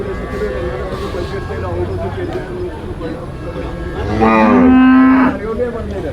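A dairy cow gives a loud, drawn-out moo near the end, rising over steady background chatter and a murmuring crowd at a cattle sale.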